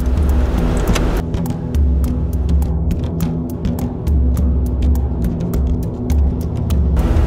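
A car engine hums and throbs from inside the cabin while riding along, a low steady rumble with faint passing-traffic noise layered over it.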